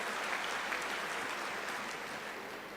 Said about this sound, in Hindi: आप सबसे निवेदन करता हूं कि जोरदार ताली बजाकर उनका अभिनंदन करें।